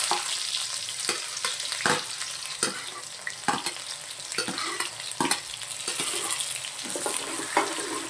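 Finely chopped onions frying in a pan with cumin and curry leaves for panchratna dal, a loud steady sizzle broken by frequent stirring scrapes and clatters, close up.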